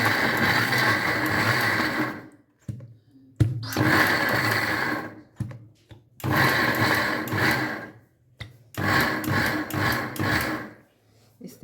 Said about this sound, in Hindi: इस तरह से पल्स मोड पर हमने चलाया मिक्सी को और बिल्कुल बारीक बारीक ग्रेट हो गया